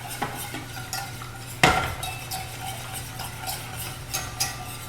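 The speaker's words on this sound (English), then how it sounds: "1 cup milk, stir," A spoon stirs milk in a pan on the stove, giving soft scraping and clinking taps, with one sharper metallic knock near the start, all faint and close.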